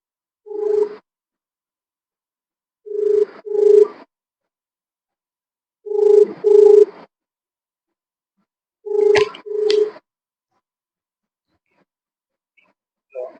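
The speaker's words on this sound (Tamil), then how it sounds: "ஒரு ஃபோன் பண்றேன், கேளுங்க" A telephone ringing during a phone call, four separate rings each made of a doubled burst, evenly spaced a few seconds apart and heard clearly against silence.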